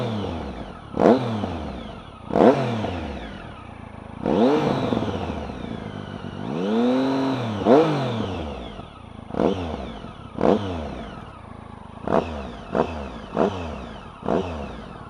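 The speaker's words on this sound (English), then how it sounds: "New exhaust fitted SC Project high level on a Triumph Tiger Sport" A 2014 Triumph Tiger Sport motorcycle with a newly fitted SC Project high-level exhaust revs repeatedly at idle, delivering sharp throttle blips and a few longer rising revs, close and loud with no talk.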